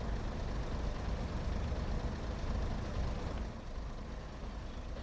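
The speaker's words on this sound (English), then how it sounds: "So we'll obviously hear the characteristic of the modern pacer, but with the Leyland bus engine instead." A Pacer train fitted with a Leyland bus engine in the Train Sim World 6 game gives a steady, low rumbling drone that stays even throughout and drops slightly in level near the end.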